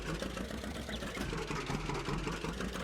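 In Farming Simulator 19, a tractor engine idles with a steady, even rumble throughout. It stays constant and moderately quiet, and no one speaks.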